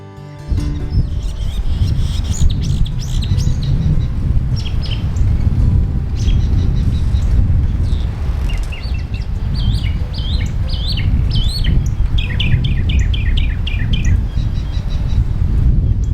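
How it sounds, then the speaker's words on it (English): Wild birds chirp and call at Resaca de la Palma birding center, a busy mix of repeated tweets and trills from several birds over a steady low outdoor rumble. "look at all the birds that we found"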